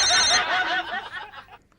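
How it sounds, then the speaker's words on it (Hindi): A telephone rings in a home, a short bright electronic ring fading out within a couple of seconds, with a faint chuckle alongside. "जा फोन उठा।"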